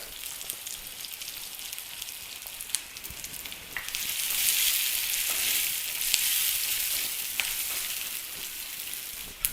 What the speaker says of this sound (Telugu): పోపు రెడీ అవుతుంది